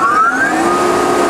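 A 15 HP Atlas Copco rotary screw air compressor starting up, giving a loud, close motor whine that rises steadily in pitch over a dense mechanical hum.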